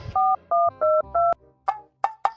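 A telephone being dialed: four steady two-tone keypad beeps in an even rhythm, then a few short, sharper tones, close and clear with no talking.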